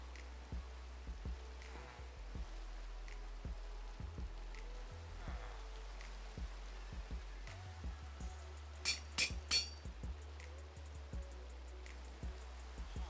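Rain in the Minecraft video game, a soft steady patter of pixel-world rainfall with scattered drop ticks, faint and continuous beneath occasional game clicks.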